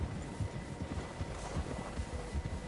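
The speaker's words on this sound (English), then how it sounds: "Horses, quite a few of them." Horses in the Red Dead Redemption video game trot along, their hooves clopping in a muffled, regular beat under a faint windy hiss, with no voices.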